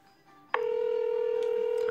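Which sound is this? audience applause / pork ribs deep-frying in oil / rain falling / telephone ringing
telephone ringing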